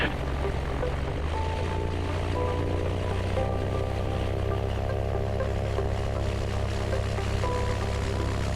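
Light aircraft engine idling on an airstrip during a pre-takeoff ignition check, a steady droning hum with propeller throb and a constant low rumble, close and unchanging, with faint talk beneath.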